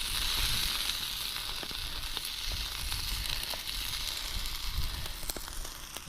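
Olive oil sizzles and spits in a hot pan at a wild camp on the Fife Coastal Path, a steady close-up frying hiss that runs throughout with faint crackles and no talking.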